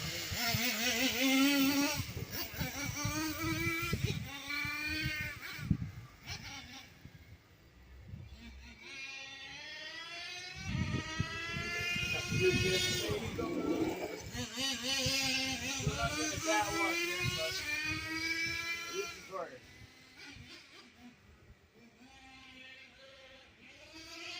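A small nitro engine in an RC truck, a Traxxas Revo with a new tuned pipe, screams and revs nearby, its high whining pitch rising and falling in bursts, then settling toward an idle.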